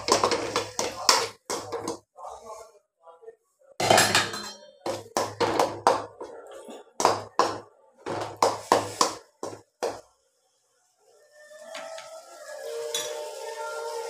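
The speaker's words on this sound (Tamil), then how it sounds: "இப்போது நம்ம அரைச்சி வச்ச தக்காளியை அதில் போட்டுக்கலாம். லைட்டாக கலக்கி விட்டுக்கலாம்." Ground tomato paste being stirred in a pan, with a run of sharp, close clanks and scrapes of the spoon against metal in quick bursts, then a quieter simmering sizzle near the end.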